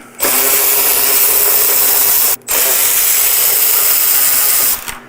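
A ratchet with an extension backs out lower bolts on a motorcycle fairing, giving two long bursts of rapid, continuous clicking separated by a brief pause, close and loud, with no talking.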